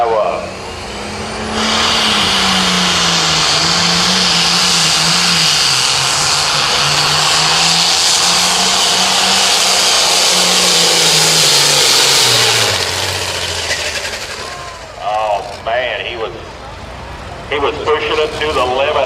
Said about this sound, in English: Brandon Peterson coming up out of Prescott, Iowa, 1206 International. This is the Roland Cole tractor.